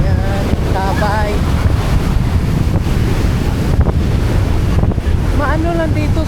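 Rough sea surf on a windy coast in Crete, a continuous loud wash of breaking waves with heavy wind rumble on the microphone, and faint voices briefly audible over the roar.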